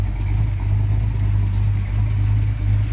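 A 425 hp Monte Carlo SS V8 runs at a steady, deep idle close to the mic, with an even low rumble and slight pulsing throughout and no voices.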